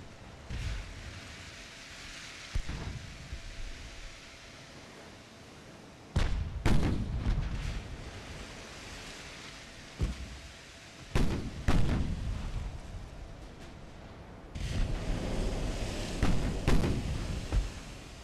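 Naval gunfire from the Ultimate Admiral video game, with a battlecruiser engaging a ship carrying many medium guns: several heavy booming salvos in irregular bursts, each a loud thump with a rumbling tail, separated by quieter stretches of low ambient sea noise.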